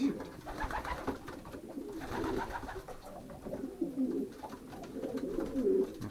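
Soft, low pigeon coos repeat in a steady rolling pattern, fairly close, with faint background noise and no talking.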